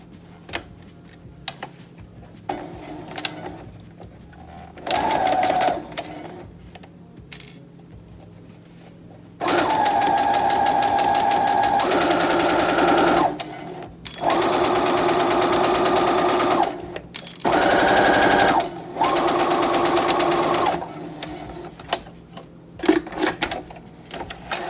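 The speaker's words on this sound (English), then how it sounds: "So I'm gonna go ahead and sew that." A sewing machine stitches the lining of a fabric face mask. It is heard as several loud, close, steady whirring runs of rapid needle ticks, broken by pauses with lighter handling clicks, and nobody talks.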